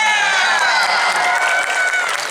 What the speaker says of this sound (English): How about a round of applause for that, huh?